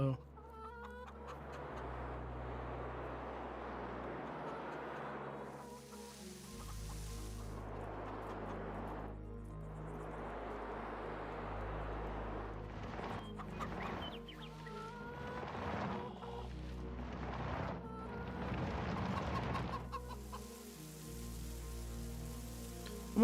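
Chickens in the Farming Simulator 22 farm game cluck in short, repeated bursts over a soft steady background hiss, fairly faint and fairly close.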